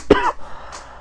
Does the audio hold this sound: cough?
yes